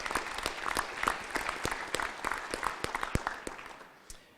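An audience at a school district town meeting applauds for a student qualifier to the New York State indoor track championships, a dense steady patter of many hands clapping that fades toward the end.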